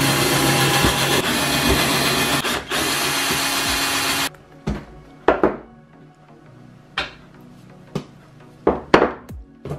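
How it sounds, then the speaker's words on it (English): A power drill whirs steadily for about four seconds while unscrewing an Evolve skateboard AT wheel, then stops, followed by scattered metallic clinks and taps as parts are handled. "Then you unscrew it."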